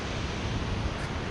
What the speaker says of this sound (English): that's the waterfall from this side